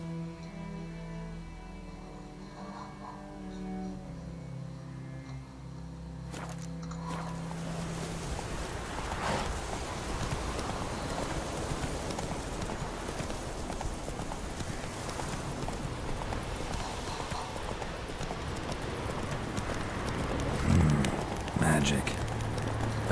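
In The Witcher 3, a horse gallops with rapid, rhythmic hoofbeats that start a few seconds in and continue steadily at moderate volume over a rushing, windy outdoor ambience.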